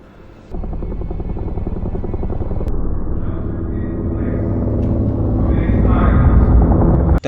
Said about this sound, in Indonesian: Terdengar dari luar suara keras helikopter memberi himbauan agar tetap tenang